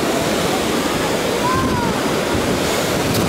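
Sea waves break and wash beside a fishing pier on a beach in Alanya, Turkey, in the evening, a loud continuous surf roar with wind buffeting the microphone.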